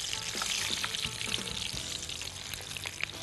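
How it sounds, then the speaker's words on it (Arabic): Borek pastries frying in hot oil give a quiet, steady sizzle with soft crackles and occasional bubbling pops, heard alone and close with no talking. "بصوا الزيت مغطيها فمش محتاجه ان انا اقلب، مجرد بهزها كده"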